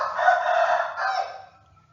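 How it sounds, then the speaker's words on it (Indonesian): A rooster crows once, loud and close, a single sustained call that fades out after about a second and a half, with no talk over it. "suara-suaranya bising sama ayam"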